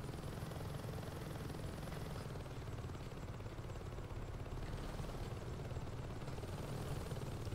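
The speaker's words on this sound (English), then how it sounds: "You take a helicopter and blow those things up, you'll crash their security." A helicopter flies in the video game Saints Row 2, its rotor giving a continuous throbbing whir and engine drone that holds steady and fairly loud, with no talking.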